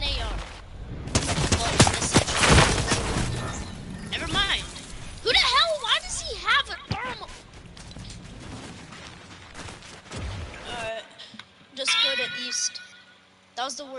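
Video game assault rifle fire crackles in rapid bursts and scattered shots over several seconds, mixed with game effects while players talk excitedly over it.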